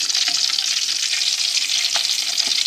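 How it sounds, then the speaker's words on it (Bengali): Chicken pieces for a roast fry in hot oil with a steady, bright sizzle, close and continuous, with a few soft stirring clicks. "আমার সবগুলো ভাজা হয়ে গেছে"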